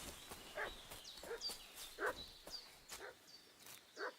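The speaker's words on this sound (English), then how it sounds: "You guys hear the dog barking?" A dog barks in Kingdom Come: Deliverance 2, several separate barks spaced at a steady rhythm at moderate distance, over quiet game ambience with footsteps.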